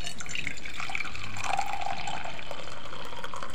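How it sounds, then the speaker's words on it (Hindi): Boiled hot water poured into a glass, a steady close liquid splash and trickle running the whole time without talk. "तो इसको पानी को ले लेंगे और यहाँ गिलास में डालेंगे।"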